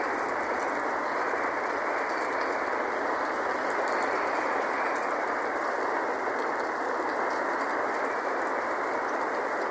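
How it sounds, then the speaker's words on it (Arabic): Rain pours down over Kenitra in a constant, uniform hiss of countless drops, unchanging for the whole stretch, moderately loud and free of any speech. "أمطار الخير الحمد لله"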